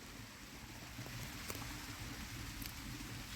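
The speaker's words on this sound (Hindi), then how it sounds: "ये देखें बारिश आ गई है बहुत तेज" Heavy rain pours steadily over an open farm field, a dense continuous hiss and patter with low rumbling underneath and no voices.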